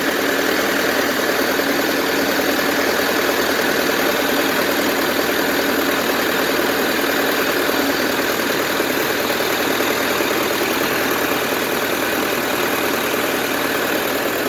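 A cabless tractor engine idles steadily during cattle-feeding chores, giving a continuous, fairly loud, even drone with a constant mechanical hum and no talk over it.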